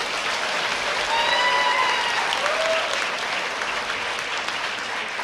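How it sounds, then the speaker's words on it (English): Sustained, fairly loud applause from an audience at a high school senior awards night for scholarship students, dense and even throughout, with a few faint whistles or cheers on top. "Let's collectively give these young men and women a round of applause."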